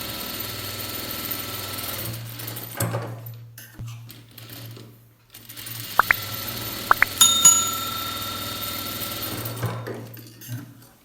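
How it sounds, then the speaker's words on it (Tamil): A sewing machine stitches blouse fabric with a steady mechanical whir that starts, pauses briefly, then runs again, with a few sharp clicks partway through. "அப்படி இப்போ துணி மேலே ஒரு பதிச்சு தையல்."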